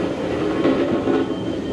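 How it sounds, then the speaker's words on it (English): Train passing on a looping track at a steam festival: a brief, steady rumble of rolling wheels and carriage noise, close and fairly loud, with no talk over it. "here comes the train again"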